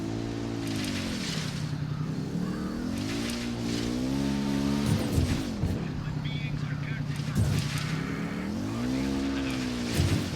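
A motorcycle in a video game revs and accelerates in rising and falling engine sweeps, loud and close throughout, with voices faintly present in places.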